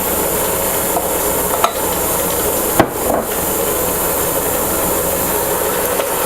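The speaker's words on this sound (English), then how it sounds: "So all you have to do is just rough mix your eggs with your sugar for 30 seconds, maybe a minute." An electric mixer whirs steadily and close while roughly beating eggs with sugar in a bowl, with a few sharp knocks of the beaters against the bowl and no speech.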